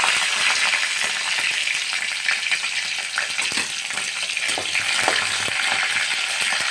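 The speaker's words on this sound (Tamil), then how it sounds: "கடுகு பொரிஞ்ச உடனே ஜீரகம் சீரகம் பொரிஞ்ச உடனே கருவேப்பிலை பச்சை மிளகாய்" Mustard seeds, cumin, curry leaves and green chilies fry in hot oil for vegetable rice, a dense steady sizzle with crackling pops close up, no talking.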